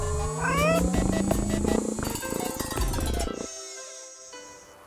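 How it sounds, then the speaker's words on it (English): A robotic cat in a Nancy Drew video game lets out a loud, close meow with rising and falling tones, followed by a softer electronic chirping trill. "Who's my favorite robotic cat?"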